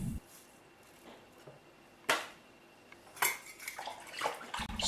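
Wort with ale yeast being stirred in a plastic brew bin for a chocolate ginger beer, giving scattered scraping clatters and a few sharper knocks against the bin, with a sloshing liquid wash in between.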